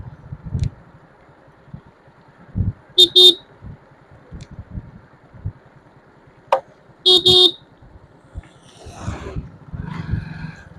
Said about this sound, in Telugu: ఇప్పుడు ఒక బండి ఎదురొచ్చిందబ్బా, కారు.